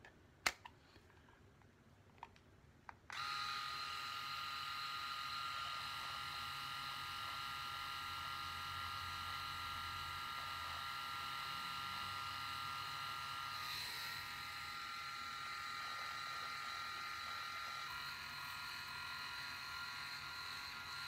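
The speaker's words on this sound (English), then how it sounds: "I'll use that pop-up trimmer." A PHISCO electric rotary razor with its pop-up trimmer starts after a few clicks and then hums steadily and closely with a high buzzing whine for the rest of the time, its pitch shifting slightly midway, with no talk.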